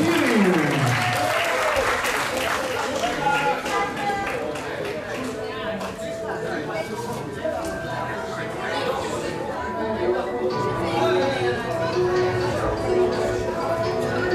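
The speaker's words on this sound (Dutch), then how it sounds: "Zo'n groot applaus voor Suleiman El Kadiri." A large boxing crowd applauds and cheers for the winning fighter, dense steady clapping lasting throughout with chatter and voices mixed in.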